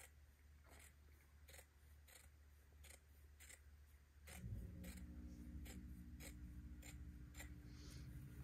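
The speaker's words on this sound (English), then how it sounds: "As you can see, I'm just kind of cutting close to the line." Scissors cut fabric near a marked line while sewing a funeral pall, making a steady series of crisp, close snips at an even rhythm, with a low rustle of the cloth under them.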